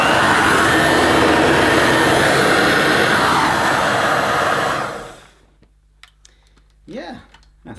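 A Dirt Devil Broomy Broom Vac 750 vacuum cleaner runs with a loud, steady whirring roar, then winds down and stops, leaving near silence with a few faint clicks and a brief voice.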